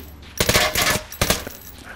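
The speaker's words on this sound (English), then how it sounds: "Oh, someone else is shooting at us." Other players fire automatic weapons in the VR shooter Onward: two close, loud bursts of rapid shots separated by a short pause.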